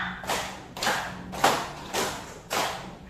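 Five crisp hand claps from a teacher's counting-clap routine in a classroom, evenly paced about half a second apart, near and clear with nothing else sounding.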